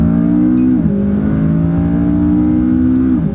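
A McLaren 570S with a 3.8-litre twin-turbo V8 drones steadily and loudly, with a brief dip in pitch around each gear change, heard close from the cabin.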